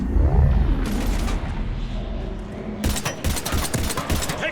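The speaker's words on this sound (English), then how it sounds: "Huss, take him out. Shoot him" Loud, close gunfire in a Mass Effect 3 battle: dense overlapping bursts and booms that ease off, then return as rapid, stuttering volleys.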